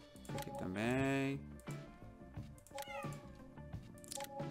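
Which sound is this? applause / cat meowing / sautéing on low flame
cat meowing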